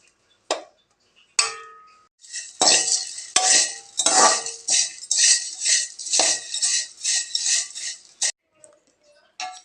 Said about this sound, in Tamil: இந்த சேமியா போட்டு லேசாக ஒரு வறுப்பு வறுத்தரலாங்க.